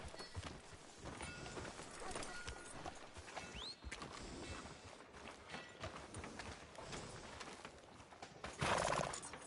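Horse hooves clip-clop steadily in Red Dead Redemption 2, with a whinny rising clearly partway through and a louder burst of noise near the end, all heard without talk.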